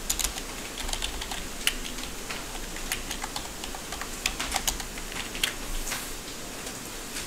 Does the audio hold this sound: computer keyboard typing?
yes